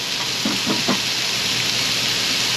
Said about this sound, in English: Okay, so we're gonna put our steak on.